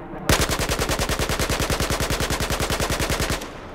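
A DLC weapon from the Battlefield 4 Weapons Crate firing one continuous automatic burst of roughly three seconds, a fast, even, loud rattle of rapid shots that ends abruptly.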